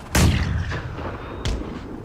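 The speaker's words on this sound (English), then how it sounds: "Man, those mortars are actually doing something." Mortar artillery fire in a mod of the strategy game Empire Total War, heard as two booming launches about a second apart, the first heavier, resounding over a distant battlefield rumble.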